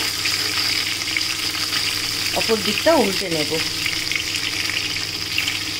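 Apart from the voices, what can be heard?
frying katla fish pieces in oil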